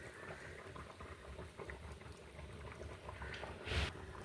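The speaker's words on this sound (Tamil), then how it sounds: "இதோட இப்போ அந்த எலும்பை அவிய விட போகிறேன்." Goat bones boil in water in a pot for soup, giving a steady soft bubbling and popping that runs throughout at low volume with no voices.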